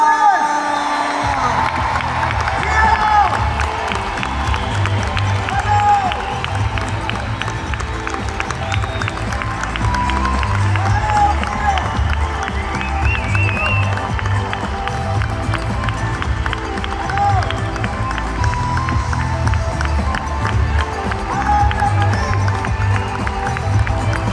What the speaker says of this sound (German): Mit einem großen Applaus begrüßt ihn den Hundeflüsterer, Mr. Caesar Müller!